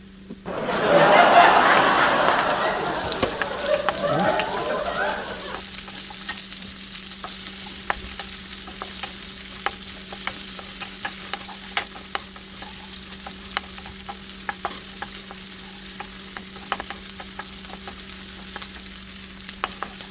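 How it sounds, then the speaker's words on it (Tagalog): Garlic hits a hot pan and sizzles loudly for a few seconds, then settles into a quieter frying hiss with light scattered pops and clicks for the rest. "igisa muna natin guys yung ating bawang"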